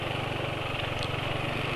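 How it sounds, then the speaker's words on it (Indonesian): A motorcycle engine running on Esso 4T Pace oil idles steadily nearby, a continuous low rumble with a fast regular pulse and no voices. "Tadi pagi sampai kantor juga nggak kayak gini suara mesinnya"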